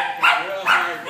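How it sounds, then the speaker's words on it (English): A miniature poodle gives two short, bright barks about half a second apart, close and fairly loud, during dog training. "You've been working hard to get him to bark?"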